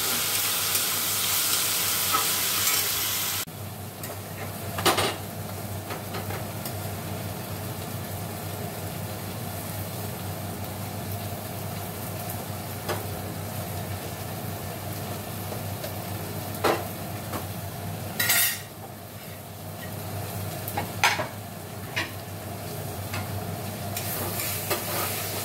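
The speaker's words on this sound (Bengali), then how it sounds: "দেখো দিয়ে দিয়েছি বিট আলুটা ভেজে নেবো, নুন হলুদও দিয়ে দিয়েছি" Beetroot and potato with salt and turmeric frying in a wok, a loud steady hissing sizzle that fills the whole stretch, broken now and then by brief clinks and scrapes of a utensil.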